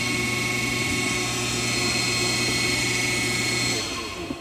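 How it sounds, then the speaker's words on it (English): A failing 20-year-old Pentair 1.5 horsepower pool pump motor with a worn bearing gives a loud, steady, harsh whine and grinding drone that runs unbroken for most of the clip, then eases slightly near the end. "That horrible noise is my pool pump. I guess the bearing's going out after 20 years."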